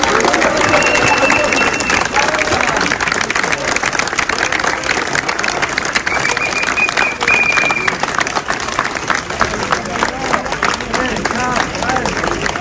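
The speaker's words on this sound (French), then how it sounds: "je vous demande d'applaudir encore le plus fort possible les grévistes" A loud, sustained burst of applause from a street crowd in Paris honours striking Verbaudet workers outside a company headquarters, with dense clapping and cheering throughout and a faint whistle-like tone rising above it now and then.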